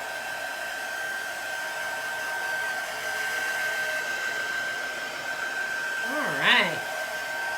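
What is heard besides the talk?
hair dryer drying a chalk transfer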